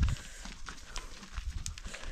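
Cows running to drink water on a farm, hooves thudding in a quick, irregular clatter on the ground, fairly close and low in level.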